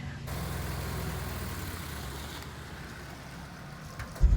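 A 1984 Toyota pickup truck engine runs at a low, steady idle, a faint rumbling drone heard close up, ending in a short louder thump near the end.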